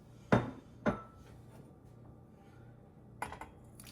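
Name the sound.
pouring ingredients into a cooking pot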